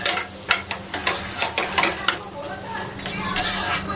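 Food being stirred in a pot on the stove, with spoon scrapes and clinks against the metal coming in a steady, close, moderately loud rhythm while someone talks.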